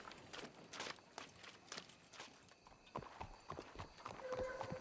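Horse hooves clip-clopping in the video game Red Dead Redemption 2, a steady walking rhythm of close hoofbeats with faint game ambience behind.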